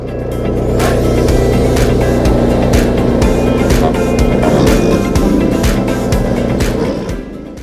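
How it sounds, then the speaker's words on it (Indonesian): Wood chipper powered by a 16-horsepower Weima petrol engine, roaring loudly and steadily at close range, with repeated sharp cracking bursts as branches are fed in and shredded. "Pemotong kayu dengan chipper berdaya tinggi."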